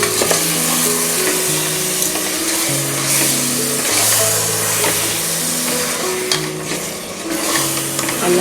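Mutton biryani mixture with yogurt being stirred in a hot pan, a steady loud sizzle with scraping stir strokes throughout, no voices.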